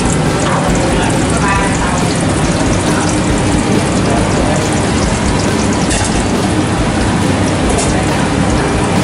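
Pork grilling on a stove at a northern Vietnamese food stall in Saigon, heard as a steady, loud, dense sizzle like heavy rain that carries through the whole stretch without letup.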